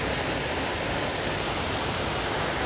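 Achankallu waterfall in Kasaragod in monsoon flow, a dense unbroken roar of falling water filling the whole moment, close and loud, with no voices.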